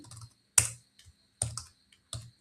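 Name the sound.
typing code on a computer keyboard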